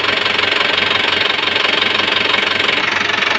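An engine warms up at a steady, loud idle, with a continuous rough knocking rumble and no pauses.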